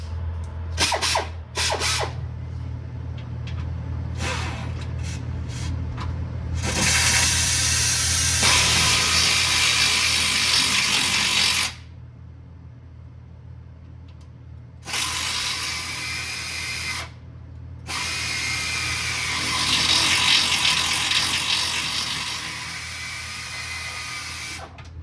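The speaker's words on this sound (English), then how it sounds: "We use this air ratchet, now it's down." Air ratchet spinning out sway bar bolts on a 2018 GMC Terrain diesel, several loud sustained whirring bursts with short pauses between, close up over a constant low compressor hum, no talking.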